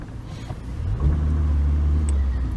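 A Peugeot 306 GTR squeezes past a parked car on a narrow road in Yusufeli, Artvin; the engine idles low, then revs up into a deep rising rumble as it pulls through, no voices over it.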